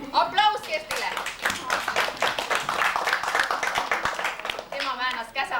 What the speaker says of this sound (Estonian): Aplaus Kerstile